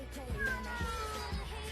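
A cat named as a house cat being bathed meows and yowls in protest, several drawn-out cries close by over splashing water and background noise.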